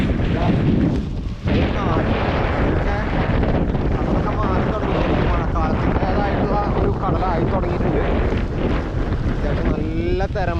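Strong wind gusts buffet the microphone at a river mouth where waves break in the distance, a loud continuous roar with a brief dip near the start, while someone talks throughout.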